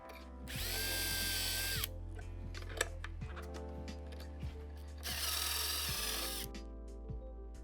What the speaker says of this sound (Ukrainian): Свердлимо отвір, переставляємо шаблон на інший бік і робимо другий.